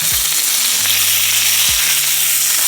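Beef steak searing over high heat in a stainless steel pan gives a steady, loud hiss and crackle throughout, with a few low thuds and brief scraping knocks of the pan or meat being shifted.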